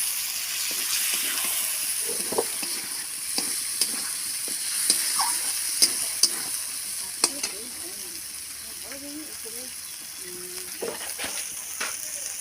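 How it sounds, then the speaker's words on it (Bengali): Duck eggs are stir-fried in a spiced masala, giving a steady close sizzle and hiss with the scrape and clink of a spatula against the pan, plus a few brief sharp knocks. "ডিমগুলো দিয়ে আমি আরেকটু কষিয়ে নেব"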